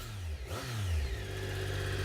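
A motorcycle engine revs alone, its steady mid-pitched drone swelling briefly before settling into a sustained, moderately distant hum.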